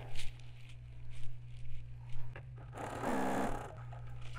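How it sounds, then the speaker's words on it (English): Sewing machine joining patchwork fabric pieces, heard as a soft rhythmic patter of stitching followed by a louder, steadier whir lasting about a second, over a constant low hum. "And so I'm going to sew these 2 together."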